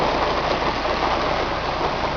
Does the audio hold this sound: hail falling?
yes